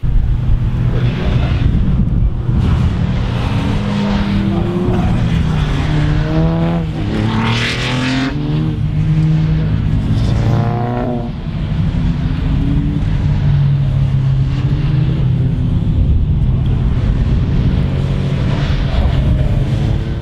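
A race car circles on warm-up laps before a race, its engine roaring loud and continuous, with pitch swells as it passes, wind buffeting mixed in throughout.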